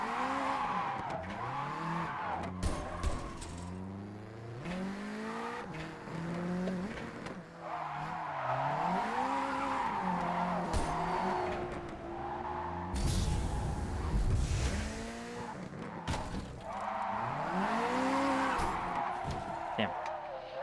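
A JDM car drifts in a racing video game, its tires squealing in long, wavering pitched slides over a rough engine drone, with repeated bursts of skidding throughout.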